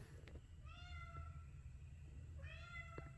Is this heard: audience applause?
no